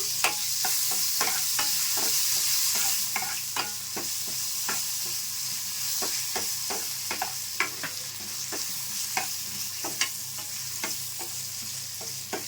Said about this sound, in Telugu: తాలింపు బాగా వేగిన తర్వాత చట్నీలో కలిపేసుకోవాలి. మాడకుండా దగ్గరుండి సిమ్లో పెట్టి వేయించుకోవాలండి.